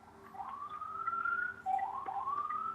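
Emergency vehicle siren heard over a telephone line during a call with the Central Java governor, two rising wails at moderate level with narrow, band-limited tone and no talk over it.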